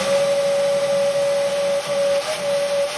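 Shop vacuum cleaner running steadily beneath a locked table saw after the sled is removed, a constant whine with a high tonal note, loud and close throughout with no talk.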